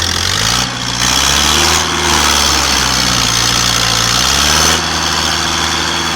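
A Toyota truck's engine runs steadily in gear while dragging a load at a tornado cleanup site in Shawnee and Moore, Oklahoma, a loud, even drone with slight shifts in pitch and no talking.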